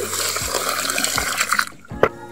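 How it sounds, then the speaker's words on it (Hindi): Water is poured into a pot of rice for washing, a close, steady splashing rush with a few gurgles and a brief slosh near the end. "तो अभी इसमें डालेंगे हम लोग पानी और अच्छे से इसे वॉश करेंगे।"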